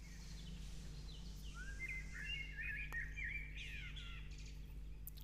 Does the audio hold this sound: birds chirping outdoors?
yes